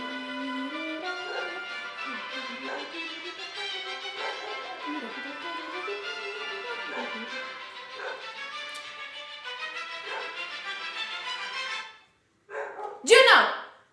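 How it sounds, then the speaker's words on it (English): A dog barks a few times up close, sharp and loud, near the end of sustained orchestral strings and a person's instructions during conducting practice. "Sorry, that was the dog barking."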